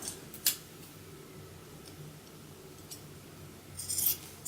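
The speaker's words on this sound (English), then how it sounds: "I'm gonna line up those notches and cut across." Scissors cut through fabric while a bohemian bucket bag is being made: a few faint, short snips near the start and a brief cluster near the end, with no talking.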